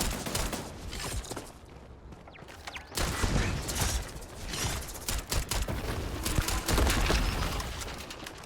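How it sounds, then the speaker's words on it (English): Turrets firing in the video game Starfield on a hostile planet, a dense stream of rapid mechanical gunfire bursts and clatter that drops out briefly and then resumes louder, with no speech. "Why do I hear turrets?"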